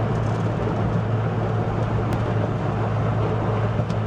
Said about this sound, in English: it'll just grumble along at these revs like all day, every day.